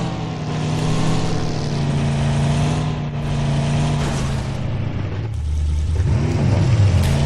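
A car engine revving in a video game, a loud continuous droning engine that holds steady, then dips and swells again near the end, with no talk over it.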